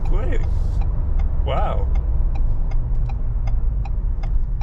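2021 Ford Bronco Wildtrak accelerating in 4 auto mode, a loud low engine rumble heard from inside the cabin with a steady ticking over it; a person exclaims briefly early on.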